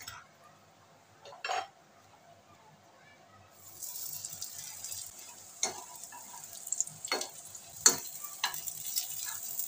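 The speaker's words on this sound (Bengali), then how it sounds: "পরোটাগুলো ভাজা হয়ে গেছে, আমি এক এক করে তুলে নিচ্ছি। এক এক করে সমস্ত পরোটাগুলো এরকম ভেজে নেব।" Wheat-flour chicken parathas fry in a pan: a quiet start with a couple of clinks, then a steady, close sizzle from about four seconds on, with occasional sharper crackles and utensil taps.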